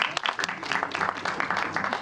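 An audience at a Delhi film promotion for Ek Villain 2 breaks into steady applause, dense clapping filling the room with a few voices mixed in.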